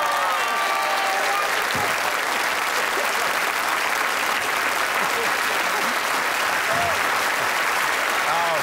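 A studio audience bursts into sustained, dense applause at a Christmas variety show, a steady wall of clapping that holds at full strength for the whole stretch.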